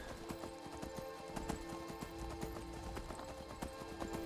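Horse hooves clip-clop in a steady rhythm while riding through rainy southern Skyrim in the video game, moderately loud and continuous over ambient game background, with no talking.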